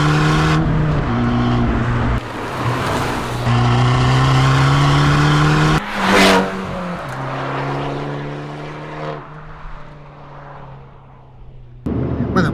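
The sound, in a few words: Abarth 695 C Competizione 180 CV driving on street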